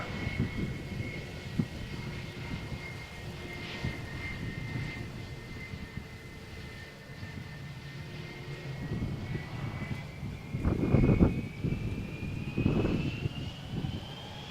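Airliner engines idling at Malaga Airport on a stormy morning while a Vueling flight to Palma waits for clearance, a distant steady roar with a slowly drifting whine and a few louder surges toward the end.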